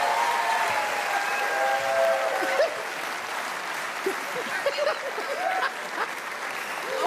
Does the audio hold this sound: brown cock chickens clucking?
no